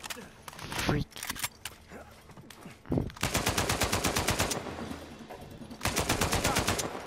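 Gunfire from a sniper and other weapons crackles in Uncharted 4, with scattered single shots early on and then long rapid automatic bursts that stay close and loud, while a person talks in between.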